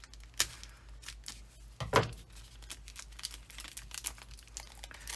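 Scissors cut open the cellophane wrapping on a diamond painting kit, producing close, irregular crinkles and snips with a couple of sharper crackling bursts, and no voices.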